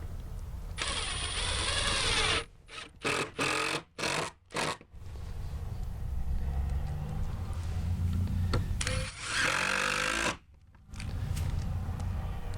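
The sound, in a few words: driving screws to mount gate hinges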